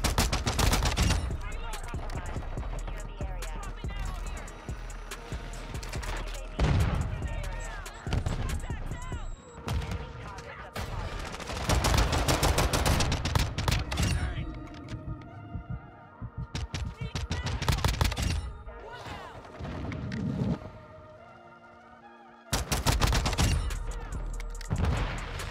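9mm Daemon pistol fire in the video game Modern Warfare 2, with rapid close bursts of shots and dense fusillades separated by short gaps and low throbbing hum, loud and broken into several segments.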